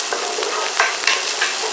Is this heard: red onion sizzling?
yes